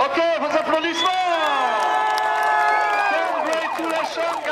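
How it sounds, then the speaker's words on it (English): At the Coupe de l'Avenir 2018 award ceremony, a crowd cheers loudly with high whoops and shouts over scattered clapping. The sound is close and sustained, and voices rise and fall together. "vos applaudissements."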